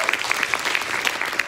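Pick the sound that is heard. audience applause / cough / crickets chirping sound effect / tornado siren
audience applause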